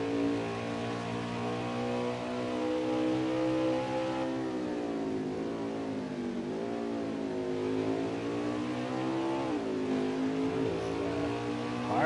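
A race truck engine revs hard around Watkins Glen, its steady mid-pitched drone rising and dipping through gear changes and corners, continuous and loud with no talk.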